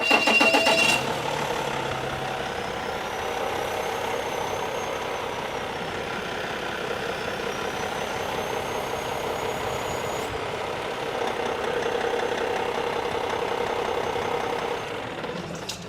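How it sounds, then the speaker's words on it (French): A Cummins ISX diesel engine runs on a training test bench, a steady loud rumbling idle with a knocking texture that continues for the whole stretch, close and without talk. "Là, je vais partir le moteur et je vais insérer quelques petites fautes."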